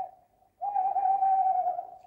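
An owl hooting in a cartoon: a short low hoot, then a longer sustained, wavering hoo held for over a second, clear and alone.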